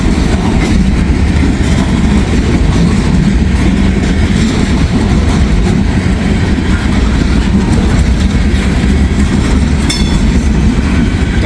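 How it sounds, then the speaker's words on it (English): A Union Pacific freight train with many boxcars rolls steadily past at moderate speed on the main line, a loud continuous low rumble with rattling wheels and clanking cars close by. "A lot of boxcars here in this cut."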